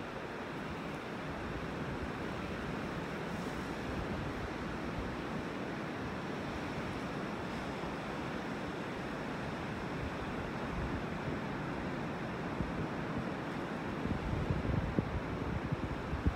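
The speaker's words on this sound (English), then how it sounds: "But you can see the trees blowing around there in the wind." Steady wind rushes and buffets across a Florida beach in North Naples, a continuous broadband roar that holds level throughout with no voices.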